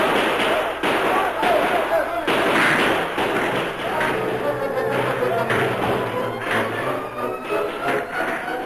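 Rifle volleys ring out as a radio-drama sound effect for outlaws charging and being fired upon, with repeated sharp gunshot bursts layered over a busy, noisy battle background and spoken narration.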